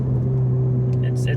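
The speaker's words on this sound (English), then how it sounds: "The exhaust gets a little boomy in the mid-range here." A 2018 Ford Fiesta ST exhaust drones with a steady, low booming hum at mid-range revs, heard from inside the car as a constant resonant tone for a brief stretch.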